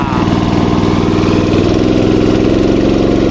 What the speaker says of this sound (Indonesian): nah ini dia Honda GX 160, sahabat petani. Coba kita besarin sedikit gasnya ya.